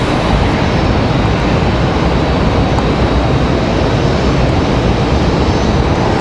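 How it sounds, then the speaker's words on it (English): A Southwest Airlines airliner comes in to land at Raleigh-Durham International Airport, a loud, steady engine roar that fills the whole stretch without a break. "Southwest going to come in a little bit lower than our Breeze Airways did a minute ago"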